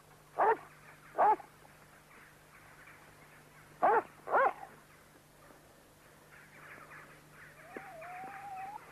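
A dog barks in short bursts, two sharp barks followed by two more a few seconds later, at moderate distance, then a faint rising whine trails off near the end.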